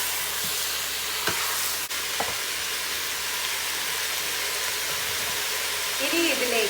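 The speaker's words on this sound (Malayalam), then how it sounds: "ഈ മീറ്റ് കഷ്ണങ്ങളൊന്ന് സീലാവാൻ അനുവദിക്കുക." Chicken meat pieces sear in a pot for a one-pot soup, giving a steady, close hiss of sizzling with a few soft clinks and stirring knocks.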